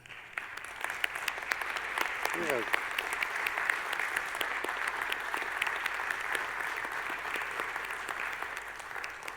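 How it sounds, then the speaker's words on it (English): Audience applause at a Mother's Day temple gathering: sustained, even clapping from a sizable crowd indoors, with a brief voice heard under it. "we can give you a round of applause"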